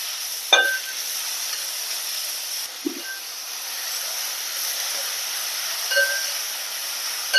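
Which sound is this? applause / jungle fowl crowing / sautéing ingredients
sautéing ingredients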